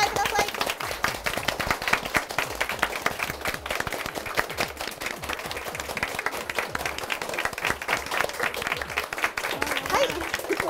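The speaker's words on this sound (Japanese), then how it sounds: "拍手でお迎えください。" An audience claps to welcome a fashion designer at a Jenny Fax 2017 spring/summer collection event, with brisk continuous applause lasting the whole stretch and voices speaking faintly beneath it.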